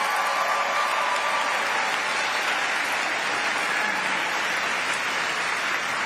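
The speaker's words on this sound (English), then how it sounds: "Can we give them all a round of applause?" An audience at the National Book Awards ceremony applauds with steady, dense clapping that holds evenly from start to finish, with no voices heard.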